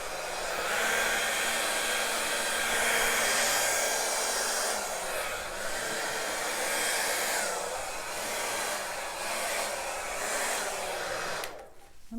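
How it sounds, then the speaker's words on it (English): Hair dryer blowing across acrylic pour paint on a canvas, a loud continuous whooshing roar that wavers slightly in pitch and cuts off at the end, with no talk. "now blow dryer time."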